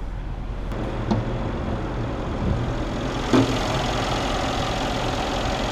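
Mercedes S63 AMG 4Matic with a 5.5-liter twin-turbo V8, 2015, idling at a steady low rumble, close and continuous, with a couple of faint clicks along the way.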